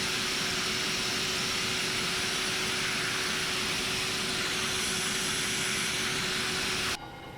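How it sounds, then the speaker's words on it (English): A Toliss A319 airliner in X-Plane 11 spools up a jet engine during pushback, giving a steady, loud broadband roar with a constant whine that cuts off abruptly near the end. "Starting pushback, and you may start engine."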